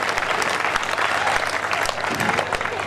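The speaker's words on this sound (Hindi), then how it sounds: "तालियां अच्छी बजाइए ना आपके बीच में" Dense audience clapping at a Hindi poetry gathering (kavi sammelan) during a Ganesh Chaturthi event in Kishangarh Renwal, continuous and fairly close throughout.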